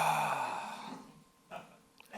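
A person imitates the sound of a couch being sat on, making a breathy, sighing exhale that fades out, then a couple of faint short noises follow.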